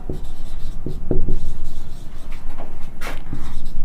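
Chalk or marker scratching across a board during a mathematics lecture on continuum mechanics, a series of short strokes and taps at close range, with no talking.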